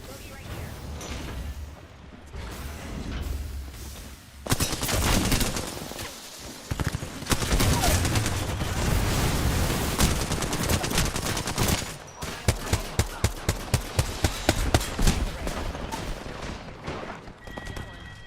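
Video game gunfire: a sustained stretch of loud rapid shooting with bursts and a run of evenly spaced sharp shots near the end, while a voice talks over the action.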